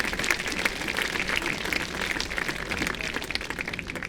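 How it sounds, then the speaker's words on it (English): A crowd at a high school graduation ceremony breaks into applause, a steady dense wash of clapping from many hands heard at moderate distance without talk. "We get a round of applause for them."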